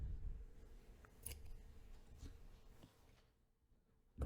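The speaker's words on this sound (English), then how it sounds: "we will just cut our yarn" Small scissors snip through crochet yarn, a few quiet, close clicks and a soft cut near the start and middle over faint room hush.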